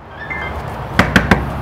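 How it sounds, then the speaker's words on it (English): Three crisp knocks on a door, evenly spaced and close, following a short quiet stretch with faint background hum. "Like that, knock on the door."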